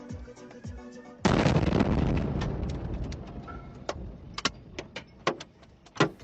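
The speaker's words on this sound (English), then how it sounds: "That's the sound of debris raining down on the car roof." Debris from a missile explosion in Ukraine rains down on a car roof: a sudden loud burst of clattering rubble, fading into scattered sharp individual impacts and thuds.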